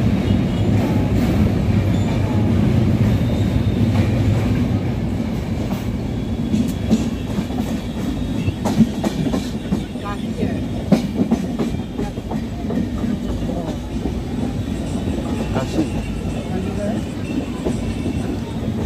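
A passenger train rolls along the rails approaching Kashi station near Benares, a steady low rumble with scattered wheel clicks and clatter throughout, with voices talking underneath.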